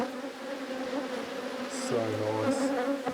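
Honeybees buzz steadily around an opened brood frame lifted from the hive, a close, continuous drone with a few louder passes near the microphone.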